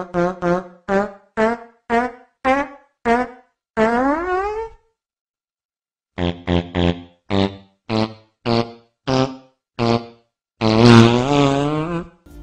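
Series of short cartoon fart sounds from the Family Guy animated show, a rapid run of about six brief bursts, then a longer drawn-out one, a pause, and another quick run ending in a long loud rasp.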